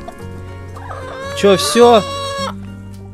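A hen clucks and squawks in a few sharp bursts close by while pecking at food, as a person speaks briefly nearby.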